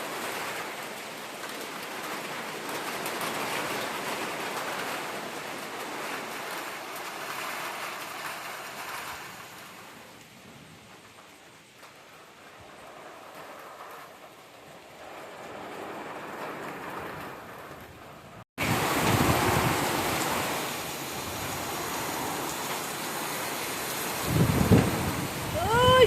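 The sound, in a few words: first rain of the year falling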